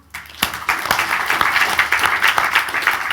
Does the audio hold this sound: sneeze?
no